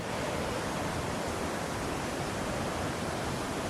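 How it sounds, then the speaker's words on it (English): Mae Kampong Waterfall in rural North Thailand roars as a steady, loud, broadband rush of falling water, unbroken throughout with no voices. "Mae Kampong Waterfall."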